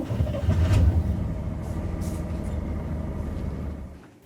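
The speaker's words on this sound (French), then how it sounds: "Oui, c'est une voiture." A car drives by with a low engine rumble and road noise that swells early, then settles into a steady hum before fading at the end. No speech.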